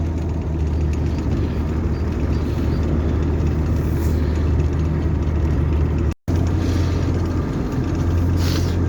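A Super A Gleaner combine with its header removed drives in second gear, its engine giving a steady, loud low rumble throughout, with a brief cut to silence near the end.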